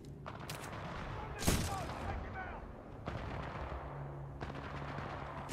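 Gunfire in the Titanfall 2 campaign's Pilot's Gauntlet, a few sharp shots and short bursts cracking over a low rumbling game backdrop, with one loud blast standing out near the start.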